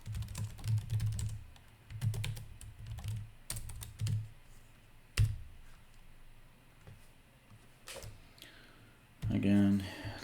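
Keys on a computer keyboard tap in quick bursts and single clicks, close and fairly quiet, with someone speaking between the bursts.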